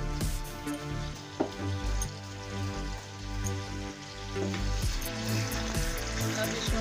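Chopped onion sizzles and crackles in two tablespoons of hot oil with coarsely ground whole coriander for a lauki chana dal sabzi, a steady spitting fry with scattered pops over faint background music.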